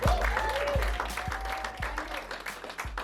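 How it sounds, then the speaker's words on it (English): A studio audience claps steadily for guest Amanda Delaney, a dense, continuous applause with a few scattered cheers and voices mixed in. "give it up one more time for Amanda, everybody"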